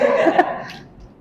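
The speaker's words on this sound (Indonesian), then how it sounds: "saya ini sebenarnya lagi agak batuk" A single short cough from someone speaking at a legal talk, close and fairly loud, fading quickly into quiet afterward.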